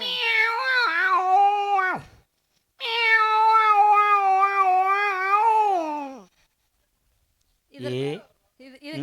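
A human voice imitates a tomcat's mating call, two long wavering yowls followed by a shorter one after a pause, loud and close with no other sound.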